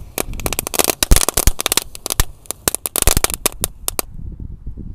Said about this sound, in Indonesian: mercon ayam jago berkokok di lubang tanah isi boba warna-warni ya